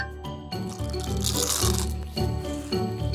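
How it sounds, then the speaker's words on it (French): A crunchy snack is eaten up close, loud crackling bites and chewing recurring in bursts over a backing of music. "Ces bruits croustillants ne te dérangent plus, Lana?"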